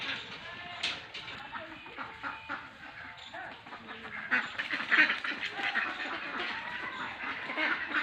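Several ducks in a village park quack repeatedly nearby, a busy overlapping chorus of nasal calls continuing throughout, with a voice talking in the background.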